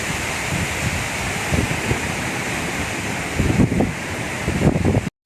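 Strong wind blowing across a white sand beach beside resort cottages, a constant broad roar with gusty buffeting surges and possible surf underneath, no talking.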